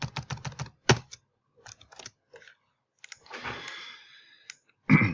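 Someone typing text on a computer keyboard while working in Illustrator: quick bursts of close, crisp key clicks with short pauses between them, ending in a heavier keystroke.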